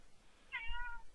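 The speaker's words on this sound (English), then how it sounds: "that was the sound of my cat being grumpy" A single drawn-out cat meow, low and complaining in tone, close by in a quiet room.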